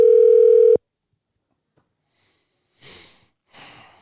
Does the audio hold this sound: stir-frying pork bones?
no